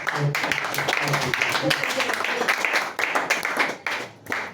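A church congregation claps in acclamation, a dense, steady round of applause close by with voices mixed in, tapering off toward the end.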